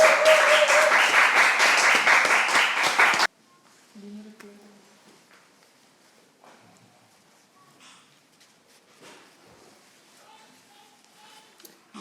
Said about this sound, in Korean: 우리 나오실 때 큰 박수로 환영하도록 하겠습니다